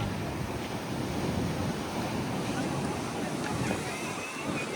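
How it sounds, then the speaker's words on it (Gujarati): Sea waves wash steadily along the shore at Dwarka, a constant broadband rush of surf mixed with wind buffeting the microphone, with no clear individual break standing out. "એવા દરિયાના મોજા"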